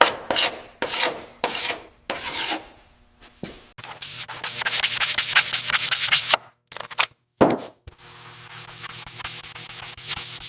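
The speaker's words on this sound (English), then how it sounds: "Block sand to shape using a long sanding block in crosshatch patterns." Rhythmic hand sanding of a car body panel with a long sanding block scrapes back and forth in short strokes, then settles into longer continuous rasping passes with brief pauses between.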